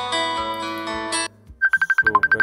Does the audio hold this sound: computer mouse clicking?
no